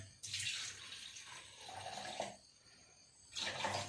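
Boiled herbal water of neem, tulsi, hibiscus and fenugreek being poured for homemade shampoo, a close splashing stream in bursts, stopping and restarting near the end.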